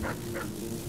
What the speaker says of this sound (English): We've got dogs to worry about.